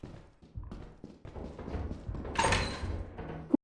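A door in the video game Lethal Company slides and thuds among footsteps and shuffling, with a louder scrape midway and a sharp knock just before it cuts off.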